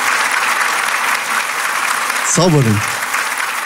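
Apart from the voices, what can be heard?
audience applauding the judges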